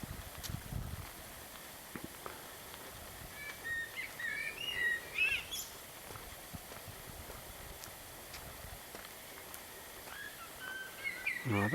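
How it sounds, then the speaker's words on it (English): Blackbirds sing and chirp at a distance around a hotel on La Palma, with scattered faint calls over a quiet outdoor background and no talking. "there's some blackbirds here that are tweeting away a lot of the day"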